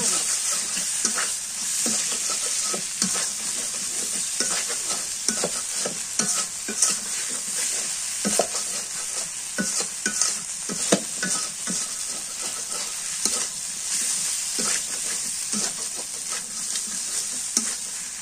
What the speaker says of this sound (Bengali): মাছটা ভাজি করতে হবে